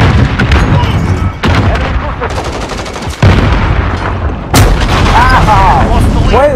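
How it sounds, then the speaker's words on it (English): Repeated loud explosions and gunfire boom through a Call of Duty multiplayer match, heavy blasts interrupting continuous in-game battle noise as a player reacts. "What is up with all these explosions?"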